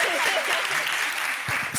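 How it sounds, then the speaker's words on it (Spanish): Audience applause at a university talk, a steady wash of many clapping hands for under two seconds, fairly loud and continuous with a faint voice underneath. "Un aplauso para él, por favor."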